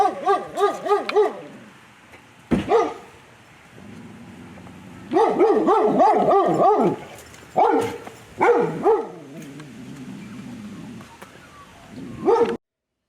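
A dog barks in bursts of sharp, loud woofs and yelps, with clusters near the start, middle and end separated by quieter whining and lower growl-like noise.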